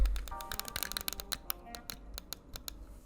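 Sharp, rapid clicks from the shoulder buttons of a Razer Raion PS4 fightpad, pressed in quick, irregular succession close up, each a short crisp tap with almost no travel.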